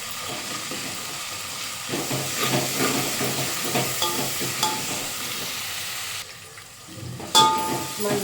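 Vegetables, with curry leaves and coriander, fry and sizzle steadily in a pan with bursts of stirring scrapes, the hiss dropping briefly near the end before flaring up again.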